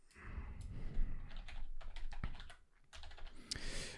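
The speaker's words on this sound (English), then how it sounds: "Let's just type it in." Computer keyboard keys are typed in short bursts of quick, close clicks, with a few pauses between runs.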